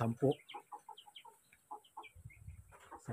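Ten Rhode Island brown chicks peep in high, thin chirps, a rapid scattered series close by, with a voice speaking briefly at the start and end.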